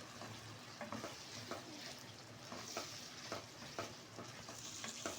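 Yogurt stirred into masala frying in oil for aloo matar, a soft continuous sizzle with repeated scraping stirs of a spoon against the pan, faint and close, no voices.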